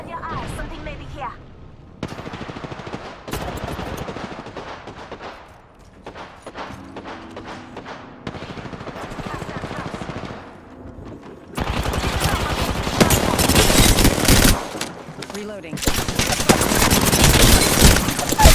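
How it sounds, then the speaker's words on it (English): Gunfire in the video game Apex Legends rattles out in dense, repeated bursts. It stays fairly loud throughout and intensifies into near-continuous shooting in the second half. "I am taking fire, friends."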